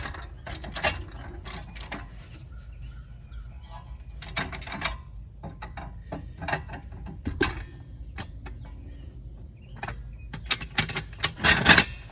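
Nissan suspension strut being pressed down and released by hand, giving repeated mechanical creaks, clicks and clunks in irregular bursts at close range, with no talking.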